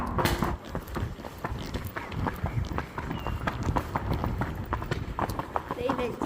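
Hooves of a ridden horse clip-clopping on a town street, an irregular patter of close knocks mixed with rustling and nearby movement noise.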